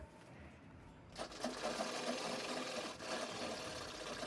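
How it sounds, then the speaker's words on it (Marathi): Sewing machine stitching a one-inch fabric strip onto a saree cover, a short pause then a steady close mechanical whir with rapid rhythmic needle ticking running continuously. "ही आपण आपण दापटीप घेऊन शिवून घेणार आहोत"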